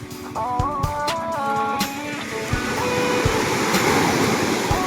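Large ocean waves wash and churn continuously at a fish port, broad and rushing, with some tonal mechanical whine and clanks over the top early on.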